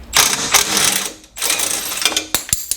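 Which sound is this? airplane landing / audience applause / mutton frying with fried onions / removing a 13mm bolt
removing a 13mm bolt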